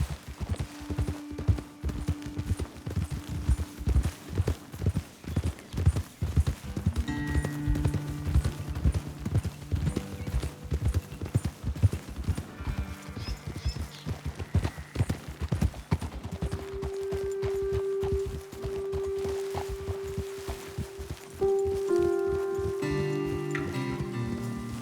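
Horse hooves clop in a steady walking rhythm throughout in Red Dead Redemption 2, close and distinct, with occasional tonal game sounds rising in the background.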